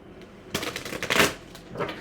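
Tarot cards riffle and slap together in a quick burst of shuffling, a dense papery flutter peaking midway and trailing off into lighter flicks, close and fairly loud with no voices.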